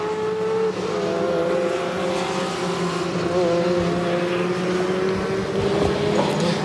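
WTCC touring race cars at Imola during a red-flag period, their engines droning steadily with tonal whine and passing revs, continuous and moderately loud with no talk over it.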